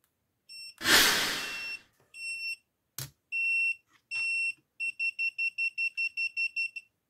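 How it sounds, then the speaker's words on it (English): A handheld voltage tester checking a 220V-to-110V step-down transformer gives sharp electronic beeps, first a few longer tones and then a rapid string of short even pulses, preceded by a brief rustling burst. "So it detects a voltage."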